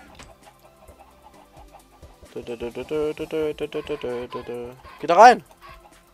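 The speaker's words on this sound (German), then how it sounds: "wir können auch einmal die Hühner antreiben hier" Minecraft chickens clucking in a short run of repeated, bird-like calls under someone talking, with one sharper louder squawk near the end.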